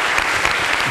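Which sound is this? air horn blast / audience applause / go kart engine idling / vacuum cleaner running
audience applause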